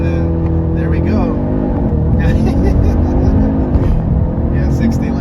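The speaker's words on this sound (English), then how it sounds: "Left foot on the brake, floor it, launch control, and then there we go." A 2025 Audi S3 pulls away hard on launch control, its engine note rising steadily over several seconds with continuous loud drive noise, while someone talks over it.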